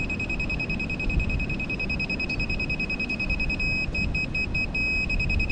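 Laser level emitting a steady high-pitched electronic tone while walls are framed, the beep holding continuously with brief interruptions and stuttering pulses partway through, over low room rumble.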